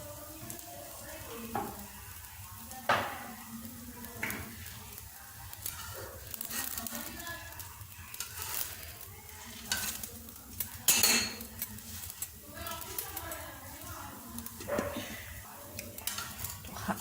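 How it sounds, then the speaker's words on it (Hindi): Chicken shami patties fry in a pan for a breakfast sandwich, a steady close sizzle broken by repeated clinks and scrapes of a utensil against the pan, with no talking. "एक साइड से हम पहले थोड़ा सा इसे पकाएंगे और फिर दूसरी साइड से"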